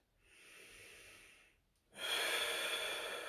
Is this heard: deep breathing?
yes